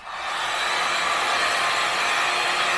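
A hair dryer blows continuously to heat a plastic bottle, a steady loud whooshing roar that starts up quickly and holds at an even level.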